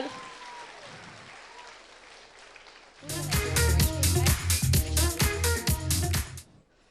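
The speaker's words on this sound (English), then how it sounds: "Can we have a huge round of applause for a cricketer?" Audience applause at a school day show breaks out suddenly after a quieter stretch of room tone, loud close clapping from many hands for a child cricketer, then cutting off abruptly near the end.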